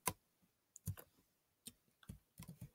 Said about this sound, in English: For instance, I'm going to type in my name again.